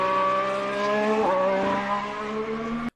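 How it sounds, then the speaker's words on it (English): A 2025 Formula 1 car at a shakedown test screams past on the track, a loud sustained high-revving engine whine with a pitch shift as it passes close, then drops away abruptly at the end. "Listen to the 2025 car"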